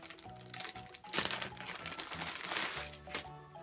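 Plastic packaging crinkles and crackles as a gradation wig is pulled out of its bag, a continuous close rustle with sharper crunches, while soft background music plays.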